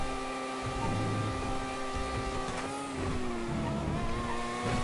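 A Ferrari race car in an F1 video game at Monaco or Yas Marina roars at high revs, its steady harmonic engine whine shifting pitch briefly mid-run, with a faint tire squeal and the drone continuing unbroken.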